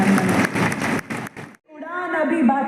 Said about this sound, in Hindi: एक बार जोरदार तालियों से आप